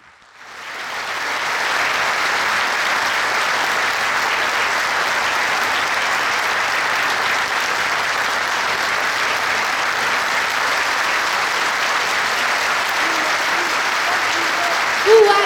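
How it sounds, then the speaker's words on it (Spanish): Sustained audience applause at a union meeting in defense of wage councils, building within the first two seconds to a dense, steady wash of clapping that holds loud and even until the end. "Un aplauso, por favor."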